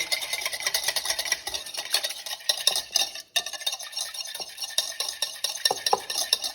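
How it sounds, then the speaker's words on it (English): A whisk beats mayonnaise ingredients with salt in a bowl, giving rapid, close scraping and clinking strokes in an uneven rhythm, with one brief pause midway and no talking. "you'll just want to start whisking these items together"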